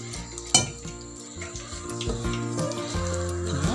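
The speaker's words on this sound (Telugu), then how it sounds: "మళ్ళీ ఇలా బజ్జీకి వచ్చేలా కలుపుకుందాము." Mirchi bajji batter being mixed by hand in a bowl, with soft wet stirring and squelching close by, a brief clatter early on, and a faint background hum.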